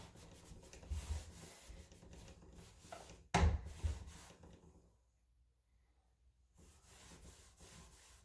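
A rag rubs gel stain onto a 100-year-old wooden door: soft, close scrubbing strokes, then a sharp knock, then quiet before the rubbing resumes faintly.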